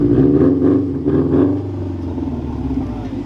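Subaru STI Type RA with a Magnaflow catback exhaust revs in short bursts, a deep throaty rumble rising and falling close by before settling into a steady idle.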